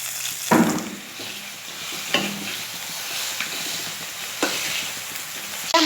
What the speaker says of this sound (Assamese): মাছৰ মাথাবোৰ ফ্ৰাই কৰি আছে মায়ে